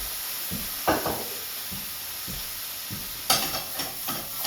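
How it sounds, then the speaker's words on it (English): Wine is poured into a hot pan while cooking risotto and hisses into a sharp sizzle, with scattered stirring clatter before and a brighter burst of sizzling late on. "Put a little bit of wine up in there"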